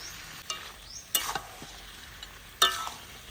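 Spicy village-style chicken curry, with the meat already browned and ground cumin-coriander paste and salt stirred in, gets a few scrapes of a spoon against the pot over a faint sizzle, quiet between the sharper strokes.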